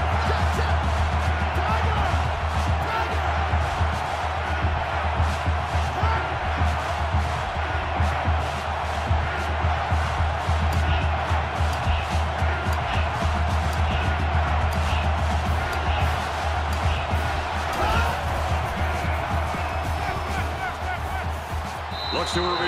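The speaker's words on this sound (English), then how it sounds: "the crowd is always into it here" Football stadium crowd at a college game between TCU and Alabama, a loud, steady roar of cheering that fills the whole stretch without breaking, with a commentator talking over it throughout.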